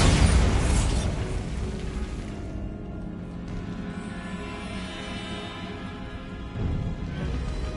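A Bombarda spell explosion in the game Hogwarts Legacy: a loud, deep boom that bursts at once and rumbles away over several seconds, with a second swell of rumble near the end.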